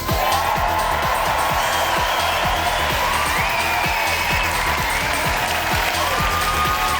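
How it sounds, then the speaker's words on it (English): A theatre audience at the Lyric on Shaftesbury Avenue cheers and applauds a live comedy show: a steady, dense wash of clapping and scattered cheers that holds for the whole stretch at close, full volume. "A few cheers and some of the more middle-class members of the audience having a little round of applause."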